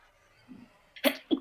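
A single sharp sneeze bursts out close by, followed by a quick second burst, after a faint murmur in otherwise quiet surroundings.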